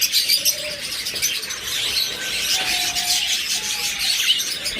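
Caged breeding pairs of large English-size pet birds chirp and call softly. Scattered short tweets and thin whistles sit over a hissy background, with no talking.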